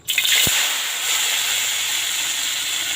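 Morning glory being stir-fried in a hot wok, a steady loud hiss and sizzle with a sharp clank near the start and a brief surge partway through.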